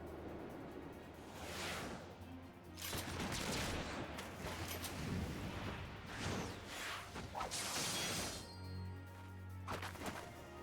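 Scattered gunshots ring out in a Final Fantasy XIV cutscene, a run of sharp bursts and crashing hits layered over steady background sound, with a brief lull near the end.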